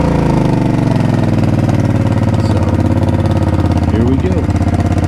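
A Suzuki Boulevard C50T cruiser motorcycle idles loud and close with its stock exhaust baffles removed, giving a steady throbbing rumble that runs the whole time beneath a man's speech.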